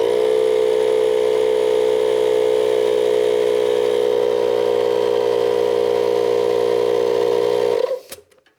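A steady electric tire pump whirs continuously and loudly, inflating the tires of a two-stroke diesel moped, then cuts off abruptly near the end.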